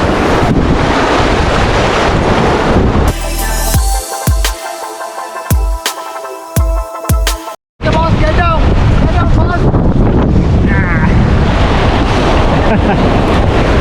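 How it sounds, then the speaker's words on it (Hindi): Fast water of river rapids on the Kullu river during rafting, a loud rushing roar with heavy wind buffeting the microphone, broken midway by a few seconds of distorted, clipped noise. "यहाँ पे रैपिड यानी कि पानी जो तेज होता है वो है।"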